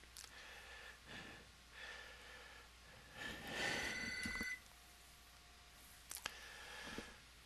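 A roommate's mobile phone rings with an incoming call somewhere in the room, its fairly faint electronic ringtone repeating in short bursts with a few clicks, and no one speaks.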